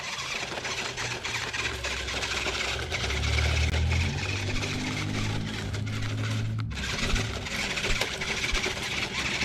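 A Ruko amphibious RC truck chugs through gravel, its small electric motor whirring steadily with crunching, pattering grit underneath, fairly close and continuous with a brief dip near the end.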